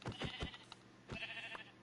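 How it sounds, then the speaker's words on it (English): Sheep bleating in the Minecraft video game, a few short bleats in quick succession followed by another pair, fairly faint and with no talk. "Got a couple sheep."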